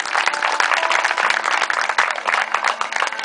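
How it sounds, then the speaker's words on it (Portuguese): A church congregation claps together during a worship service, a dense burst of many hands applauding at close range that continues steadily for a few seconds. "Aplauda o nome dEle."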